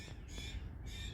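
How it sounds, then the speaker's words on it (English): A distant blue jay gives a couple of harsh, squawking calls over faint background noise, thin and far off, at an abandoned prison farm in a creek park. "there's some bird. Oh, it's a blue jay. He sounds pissed."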